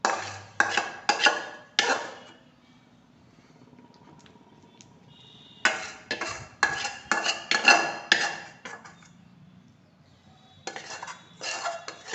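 Roasted peanuts are stirred into hot jaggery syrup for chikki, making bursts of scraping and clinking from a metal spoon against the pan. The clusters come in irregular spurts with quiet pauses between them.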